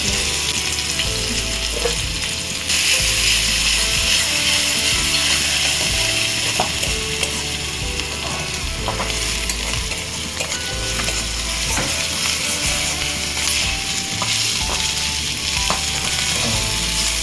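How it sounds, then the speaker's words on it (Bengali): Chopped onion and garlic frying together in a pan, a continuous loud sizzle with stirring scrapes and clinks of a utensil throughout, no voices. "আমি এবার পেঁয়াজ আর রসুনটাকে ভেজে নেবো ভালো একসাথেই কেটে নিয়েছি"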